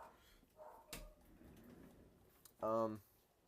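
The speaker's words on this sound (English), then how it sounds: "I got my dog barking." A short burst of dog barking, a single loud harmonic bark near the end after a quieter whimper-like sound, over a faint room background.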